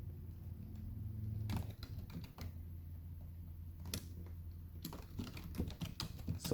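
Sparse keystrokes on a computer keyboard tap out in short bursts, close and fairly quiet, over a steady low electrical hum.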